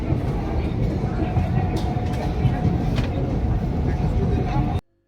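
Continuous low rumble and rattle of the Kaviguru Express passenger train from Rampurhat to Howrah, heard from inside a general-class carriage, steady and fairly loud until it cuts off abruptly at the end.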